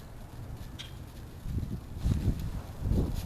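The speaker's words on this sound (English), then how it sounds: "even with this wind" Outdoor wind rumbles and buffets in low gusts, steady at first and then swelling in stronger bursts, next to a small fire being lit with char cloth.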